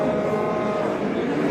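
Cattle at a livestock market in Parkent district, Tashkent region, a continuous low drawn-out moo over a busy crowd background, fairly loud and close.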